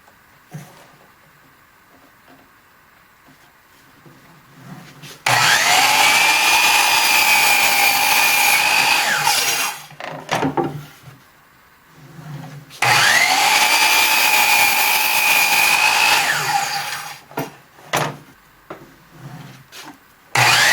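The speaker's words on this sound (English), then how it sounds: "we'll cut the bevel on each end" A hand saw cuts a 19-degree bevel across the ends of wooden legs for a folding sawhorse, two sustained rasping bursts of steady strokes, loud and close, separated by quieter handling and knocks.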